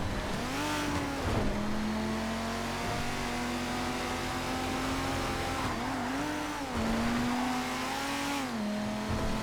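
An F620 car in GTA FiveM driving hard, its engine droning steadily and rising and falling in pitch through gear changes and revs, with occasional tire squeal, loud and continuous.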